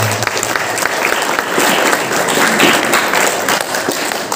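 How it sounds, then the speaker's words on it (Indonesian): Dense applause from a school audience at a student achievement week event, continuous clapping from many hands at fairly close range, loud and sustained throughout. "Boleh tepuk tangan"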